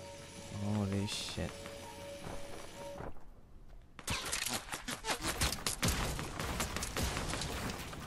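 Gunfire from the Fortnite Battle Royale video game: a rapid, dense burst of shots and impacts fills the second half, following game effects and a voice talking over the first part.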